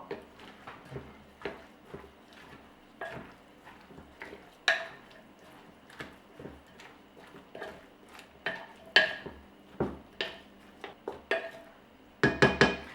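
A traditional clay cooking pot filled with sarma is handled, giving a series of irregular hard knocks and ceramic clinks, close and fairly crisp, with quiet gaps between them.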